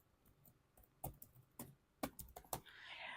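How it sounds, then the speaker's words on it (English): Keys on a computer keyboard tapped to type out an email address, irregular faint clicks with a few sharper strikes spread across a few seconds over a quiet background. "you can just type out right here their email"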